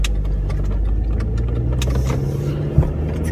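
Steady engine drone and road rumble from inside a car driving on a cold day, a continuous low hum with a small bump near the end, no talking.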